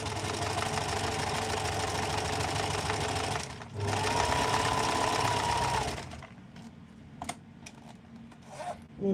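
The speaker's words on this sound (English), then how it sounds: "sew this so it is next to where the zipper runs" Sewing machine stitching fabric alongside a zipper, a fast steady mechanical buzz that runs for several seconds, pauses briefly, resumes and then stops, followed by faint handling clicks and rustles.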